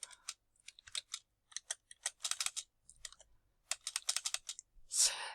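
Calculator keys pressed to enter decimal numbers, a quick series of light, close clicks in short irregular bursts with brief pauses between.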